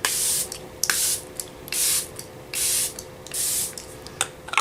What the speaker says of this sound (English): I'm going to go ahead and use the Charlotte Tilbury Airbrush Flawless Setting Spray.